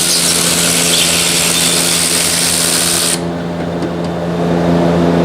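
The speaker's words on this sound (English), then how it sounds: "Now I'm gonna use my electric ratchet because I'm lazy." Electric ratchet whirring steadily at close range on a Subaru Legacy during a brake pad replacement, a loud continuous motor whine that cuts off abruptly partway through, leaving a quieter hum.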